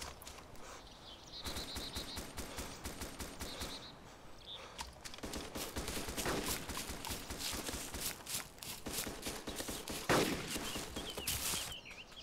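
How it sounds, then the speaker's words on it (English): Distant gunfire in the Arma 2 DayZ video game, with scattered bursts and single shots crackling across the whole stretch, one louder report near the end. "So there's definitely some shooting going on."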